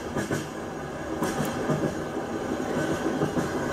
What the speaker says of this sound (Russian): то в дороге под стук колес